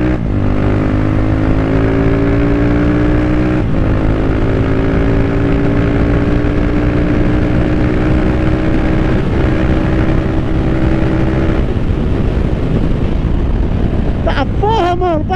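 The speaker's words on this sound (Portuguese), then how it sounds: "Ó, a motinha vai que vai" Honda CBX Strada 250cc motorcycle riding through town, its engine droning steadily and loud up close with wind rush on the microphone, the pitch rising and falling through gear changes.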